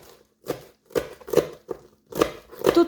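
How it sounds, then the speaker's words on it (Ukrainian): A knife chops fresh herbs on a cutting board in short separate strokes, about six cuts in an irregular rhythm, close and fairly crisp. "Нарізаю трішки зелені"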